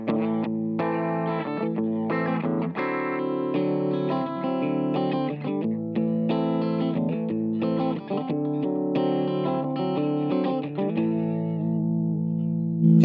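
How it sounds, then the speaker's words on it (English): Electric guitar played through a compressor pedal on an ampless pedalboard, tuned a whole step down, with sustained chords and riffs in loud, even phrases that ring out at the end. "So then we got the compressor."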